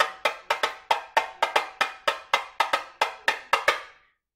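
Samba tambourine struck in the middle with a plastic stick, about fourteen sharp, ringing hits in a quick, slightly uneven rhythm, close and crisp, alone with no talk.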